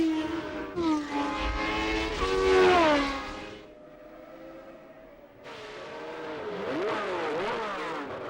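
Formula 1 race cars at Kyalami in 1980 scream past one after another, engines rising and falling in pitch as they pass close by, with a brief quieter gap before the next car arrives.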